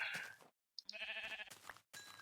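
Minecraft sheep give several short, close bleats in quick succession, broken by brief silent gaps, clear and alone in the game.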